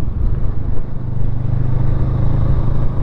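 Honda CMX500 Rebel motorcycle engine chugging steadily while riding, a continuous low rumble with wind noise, loud and close throughout.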